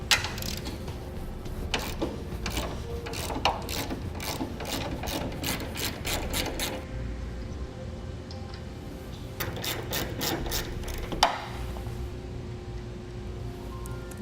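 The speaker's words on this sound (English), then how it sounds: "we're going to take the 2 15mm nuts off the bottom side" Fast ratchet clicks come in repeated bursts as a wrench backs the two 15mm nuts off the underside of a trailer hitch receiver on a 2016 Ram ProMaster, with short pauses between runs of clicking.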